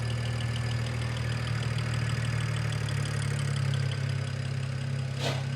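BMW 335i engine idling at a steady low drone with a faint ticking from the fuel injectors running through it, close up and continuous with no talking.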